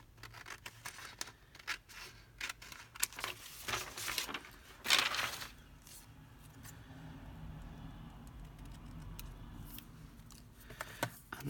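Scissors snip through printed sayings on vellum paper at a crafting table, with scattered light cuts and rustles and one sharper burst of cutting midway.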